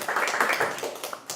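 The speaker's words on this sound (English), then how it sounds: "let's all give Emery a round of applause" An audience applauding a student performer at a music theory and composition lab performance, a brief dense burst of many hands clapping that fills the room and stays loud throughout.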